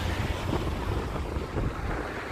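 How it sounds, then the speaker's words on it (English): Strong wind buffets the microphone in a continuous low roar during an evening walk near Futakotamagawa, Tokyo, gusting slightly without pause. "it's pretty windy up here actually"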